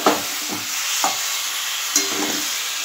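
Chalta pickle with jaggery cooking in a pan: a steady bubbling sizzle with a few scraping stirs of a spoon at irregular intervals, close by, with no one talking.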